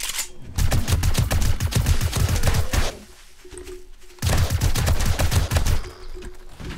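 Two automated turrets in 7 Days to Die hammer away at a zombie horde in rapid, rattling bursts, with a brief lull before the firing resumes just as loudly and then tapers off.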